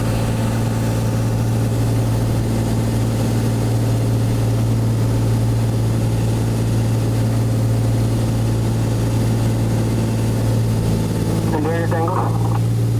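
A light aircraft's propeller engine drones steadily and loudly on a landing approach, with a constant low hum throughout and a brief higher tone near the end.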